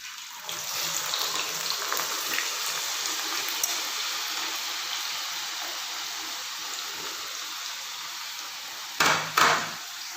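Potatoes fry in hot cooking oil, a loud, continuous close sizzle and hiss that holds steady throughout, with two brief louder bursts near the end.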